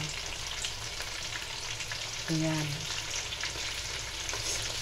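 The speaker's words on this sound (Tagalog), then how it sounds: "Piniprito na natin, guys." Oil sizzles and crackles steadily as zucchini fries in a pan, with a brief spoken word partway through.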